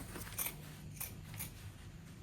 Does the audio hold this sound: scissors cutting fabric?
yes